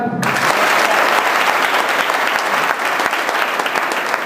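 A college class audience claps for their teachers, a loud, steady wash of applause that starts abruptly and holds dense and even throughout.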